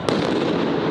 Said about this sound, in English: Flashbangs are just like Call of Duty.